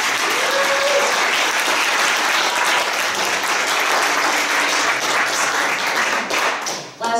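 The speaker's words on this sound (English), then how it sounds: "Let's give a round of applause to Wanda and to Tim and to the rest of the c" Loud, dense applause from a crowd fills the space continuously, then tapers off abruptly near the end.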